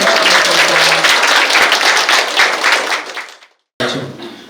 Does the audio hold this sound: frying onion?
no